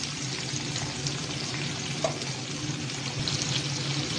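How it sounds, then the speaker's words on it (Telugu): Onions sizzle and fry in hot oil with urad dal and mustard seeds in a pan, a steady close crackling hiss with small pops throughout, no talking. "మినపప్పు ఆవాలు వేసుకొని బాగా వేయించుకోవాలి. కట్ చేసుకున్న ఉల్లిపాయ ముక్కలు వేసుకోవాలి."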